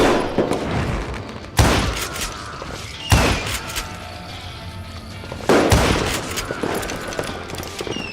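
Gunfire in the Western shooter Call of Juarez: Gunslinger: several loud, sharp gunshot cracks fire at irregular intervals, with rattling bursts and crackling echoes between them and no talking.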